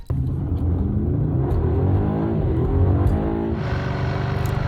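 An Aston Martin DB12 sports car engine revs loud and close, its deep rumbling note rising and falling through a couple of throttle blips.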